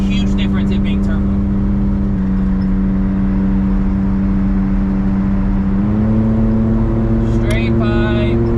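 Steady drone of a Suzuki Jimny JA11 with a turbo engine and straight pipe exhaust, cruising on a highway, loud and continuous with a low pitch that shifts slightly partway through.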